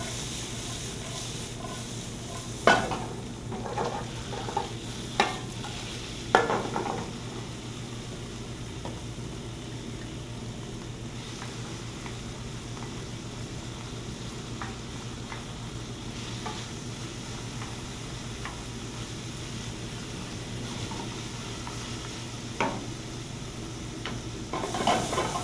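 Vegetables sizzle steadily in a frying pan, with a continuous soft crackle and hiss under occasional sharp clacks and scrapes of stirring, close and moderately loud.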